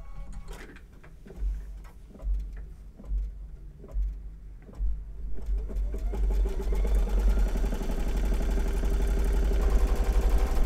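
Sewing machine stitching a placement line on a trapunto pineapple zipper pouch, starting with several slow, spaced needle thumps and then settling into a fast, continuous whirring run that grows steadily louder.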